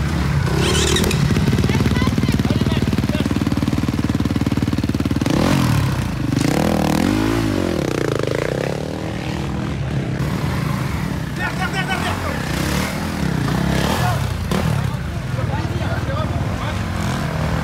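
Vintage motorcycle engine during a race, loud and continuous throughout with rising and falling revs, clattering mechanical noise and people talking over it.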